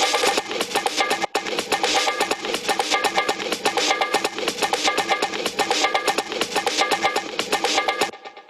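A classic old jungle drum break loops loud and busy, dense cymbals and snappy hits driving steadily for about eight seconds before cutting off abruptly.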